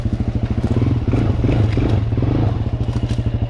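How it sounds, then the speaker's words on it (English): A motorcycle doing a burnout on wet ground in a swamp, the engine roaring loud and close with a steady rapid pulse while the spinning tyre clatters and scrapes throughout. "I'm doing a burnout right over here"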